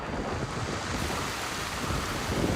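Steady early monsoon rain pours down in a dense, even hiss, loud and continuous with no voices.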